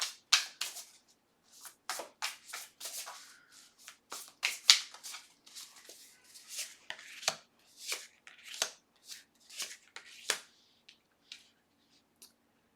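Tarot cards are shuffled and drawn during a reading, giving a close, crisp run of riffling snaps and flicks in irregular bursts across the whole stretch, with no one speaking.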